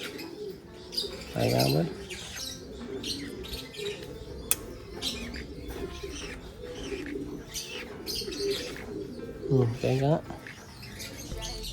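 A young racing pigeon coos in soft, throaty bursts twice while being fed, with light chirps and scuffling nearby and people speaking quietly over it.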